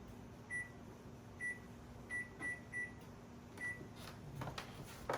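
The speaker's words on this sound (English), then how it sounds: "Yeah, that's a microwave." A microwave oven hums steadily at low volume while a series of short, high beeps sounds, then a few louder clunks near the end, in a kitchen while cast iron is seasoned.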